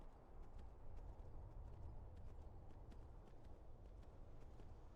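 Horse hooves clip-clopping at a steady quick pace in Skyrim, a soft continuous rhythm of hoofbeats over low rumbling ambience, with no speech.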